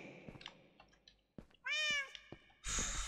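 A Minecraft cat gives a bright, rising meow, clear and alone. Faint game clicks and a short noisy burst come before and after it.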